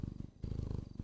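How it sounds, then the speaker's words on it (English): A cat purrs right up against the microphone, a close, loud, steady rumbling purr with rhythmic breathing pulses and a brief dip partway through. "she's purring next to the microphone."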